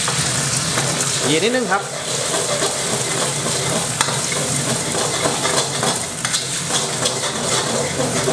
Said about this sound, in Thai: เป็นกระเทียมสับก็ใส่ไข่ลงไปผัดเลย